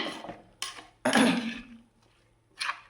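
A spoon scrapes and clinks against a pan while snake gourd pieces are stirred together with ground coconut and prawns, in a few separate bursts of metallic tapping and scraping with quiet gaps between them.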